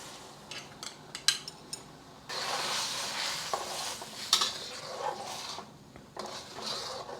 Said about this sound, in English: when the broth starts to simmer a little bit around the edges, adding my cornstarch slurry